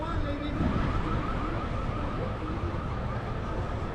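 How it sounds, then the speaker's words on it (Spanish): A car alarm wails faintly in the distance outdoors in a quiet Playa del Carmen neighborhood, its warbling tone lingering under low ambient noise. "¿Cuál es la emergencia que se está oyendo? Una alarma, mejor dicho."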